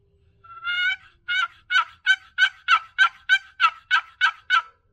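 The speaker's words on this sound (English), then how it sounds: "We may get 6 turkeys out of this one call." A wooden turkey box call yelps in a rapid series of about a dozen raspy, evenly spaced notes, loud and close, with nothing else around it.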